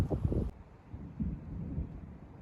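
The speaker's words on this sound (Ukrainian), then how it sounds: "як чуєте, починає гриміти" Low thunder rumbles and gusting wind during a storm in a hot summer forest while mushroom hunting, a dull continuous roar filling the short stretch after an opening burst of louder noise.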